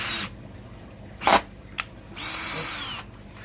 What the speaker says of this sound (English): Alright, I'm going to start drilling.